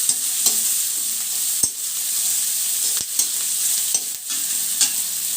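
Vegetables for simple veg noodles sauté in a hot pan with a steady sizzle, broken by several sharp scrapes and clacks as a spatula stirs them, with no talking.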